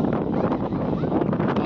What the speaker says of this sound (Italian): nel frattempo si sta scatenando un vento